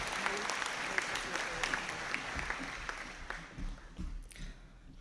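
Audience at a graduation conferring ceremony applauding after names are read, sustained crowd clapping heard somewhat distant and quiet, thinning slightly toward the end, with a voice faintly beneath.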